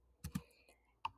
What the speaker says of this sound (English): I'm going to type in a sentence